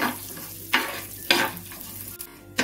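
Gobindobhog rice frying in a pan over low to medium flame, a constant crackling sizzle broken by a few sharp scraping stirs, close and clear with no voices.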